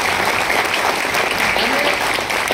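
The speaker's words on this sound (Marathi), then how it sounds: "म्हणून त्याचं खरंच टाळ्या वाजवा जरा" Audience applause at a World Environment Day sustainability event, a dense steady burst of many hands clapping together, loud and continuous from start to finish.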